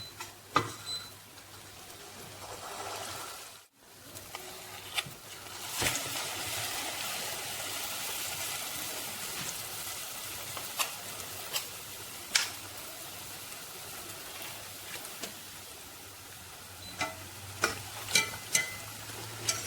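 Spoonfuls of sweet bonda (vaippan) batter frying in hot oil, a steady broadband sizzle running throughout with a brief dip and a few sharp clicks and taps from the spoon, no talking.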